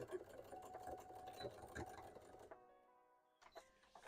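A sewing machine begins sewing a hat, its close, busy mechanical whir running for a couple of seconds before stopping, then briefly starting again.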